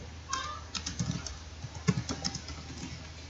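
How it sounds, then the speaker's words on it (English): Computer keyboard keys click in quick, uneven bursts with a few firmer presses like an enter key, close and moderately loud with no talk. "you just need to click on your enter button to add new option"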